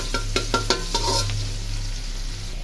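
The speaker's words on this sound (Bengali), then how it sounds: "পেঁয়াজটা দিয়ে দিলাম তেলে, গরম তেলে" Chopped onion frying in hot oil for a fish curry gives a steady, close sizzle, with a few sharp clinks of stirring near the start before the hiss settles into a continuous crackle.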